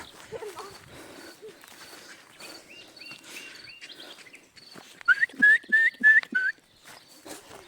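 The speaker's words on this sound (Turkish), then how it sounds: "kuşlar ne güzel ıslık çalıyor" Short, repeated birds' whistled notes in quick runs in a garden, bright and melodic, growing louder toward the end amid faint background voices and shuffling.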